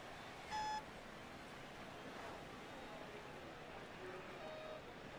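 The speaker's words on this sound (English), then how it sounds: "The beeping has started." A NASCAR racing video game gives a single short, clear warning beep, followed by a couple of fainter tones a few seconds later over a low background hum.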